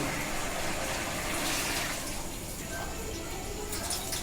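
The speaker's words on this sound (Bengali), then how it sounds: "এবার আমি চানা সেদ্ধর যে জলটা সেটা এর মধ্যে ঢেলে দিচ্ছি" Chickpea boiling water pours into a pan of chana masala cooked down with spices, a steady wash of splashing liquid that swells briefly, then settles into a softer continuous gush with no talk.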